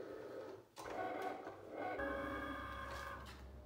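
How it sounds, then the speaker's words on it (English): A Cricut cutting machine cuts out a vinyl quote, giving a quiet mechanical whir with shifting motor tones and faint ticking as the carriage moves back and forth. "So now that my Cricut is done finished cutting out this quote to put on the frame"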